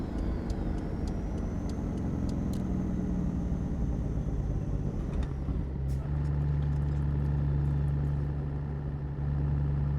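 A Kenworth W900 truck with a Cat 3406e engine in a trucking video game gives a steady deep diesel drone that shifts midway to a lower, heavier rumble, with faint clicks and no talk.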